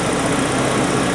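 A car engine idles rich on injected propane, giving a steady, continuous broadband running drone close by with no voices over it.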